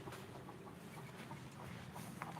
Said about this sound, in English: This is the chicken coop.